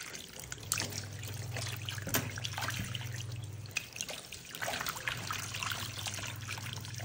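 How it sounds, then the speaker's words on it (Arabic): Water runs steadily from a tap while fresh fish is washed in a kitchen, a soft continuous pour and trickle with light splashes, fairly quiet throughout. "نغسل السمك وننشفه مضبوط."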